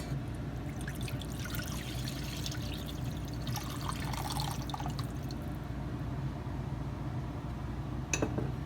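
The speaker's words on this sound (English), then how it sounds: "And then I'm going to add our vegetable stock." Vegetable stock poured into melted butter in a pan for a mac and cheese sauce, a steady soft trickle of liquid running continuously, close and fairly quiet, with no talking.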